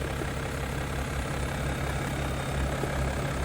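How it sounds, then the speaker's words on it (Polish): The 3.0-litre M57 diesel engine of a 20-year-old BMW X3 E83 idles close by, with no sound insulation, its steady, rumbling low drone holding an even, unbroken tone throughout with no voices. "Silnik pracuje rewelacyjnie"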